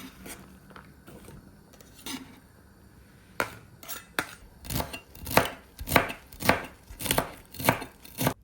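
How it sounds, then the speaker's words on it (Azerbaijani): A knife dicing red bell pepper into cubes on a cutting board, a run of sharp chopping strokes that start sparse and settle into a quick, even rhythm, close and alone. "Balqar biberi də kub şəklində doğrayırıq."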